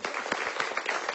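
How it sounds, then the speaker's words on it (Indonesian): Brief, fairly faint clapping from a studio audience at an Islamic preaching show, a quick patter of many hands lasting about a second. "Tepuk tangan lu."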